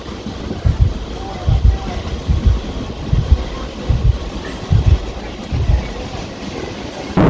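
A Howrah to Digha local train rumbles along the tracks, its wheels thumping in a steady rhythmic beat over rail joints beneath a continuous low roar, with people talking inside the carriage.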